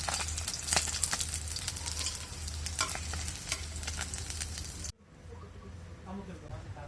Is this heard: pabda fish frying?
yes